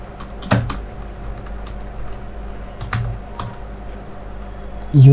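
Clicky computer keyboard typing as an email and password are entered, irregular keystrokes close by with a louder tap at the end.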